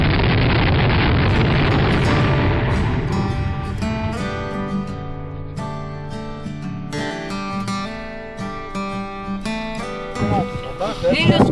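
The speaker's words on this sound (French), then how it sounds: "on découvre les explosions, ça fait un bruit d'avion qui décolle" Eruptive explosions at the Stromboli volcano make a powerful roaring rumble that opens with a loud broad burst and then rolls on as a sustained rush. Scattered pops and clatter sound over it, and faint voices can be heard.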